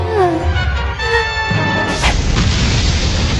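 Anime palace explosion from One Piece, a heavy booming blast that breaks in partway through and then leaves a loud, crackling rumble, following a brief voiced exclamation.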